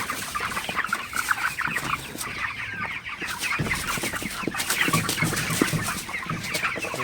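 A flock of heat-stressed broiler chickens clucks and murmurs continuously, close by, with overlapping calls and occasional louder squawks; no talking.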